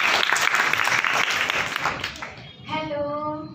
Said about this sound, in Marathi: सो जोरदार एकदा परत टाळ्या वाजवून.